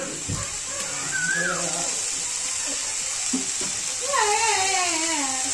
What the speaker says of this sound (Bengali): আর এদিকে তো দেখতেই পাচ্ছ সবজিটাকে ভাজছি